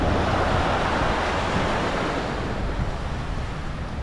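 Waves wash onto a white-sand Caribbean beach in Aruba as a continuous, full roar of surf with some wind noise, fairly loud and unbroken, with no voices.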